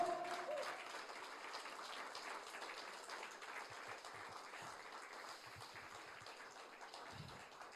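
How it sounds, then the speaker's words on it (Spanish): A church congregation claps together, a faint, dense patter of applause that fades gradually over several seconds, with a few low thumps near the end. "Y dale un fuerte aplauso al Señor por eso."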